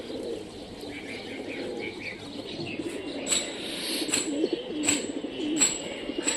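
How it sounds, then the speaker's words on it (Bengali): Giribaz pigeons coo softly while wings clap in flight, sharp flapping bursts growing more frequent toward the end, over a low outdoor murmur. "এই কবুতরটা বেশি বাজি গেলো সবচেয়ে।"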